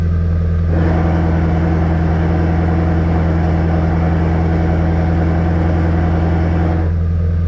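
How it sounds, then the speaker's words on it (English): A car's loud exhaust drones steadily at a raised high idle while the engine warms up, a constant deep rumble that stays strong throughout with no voices. "And of course, the exhaust."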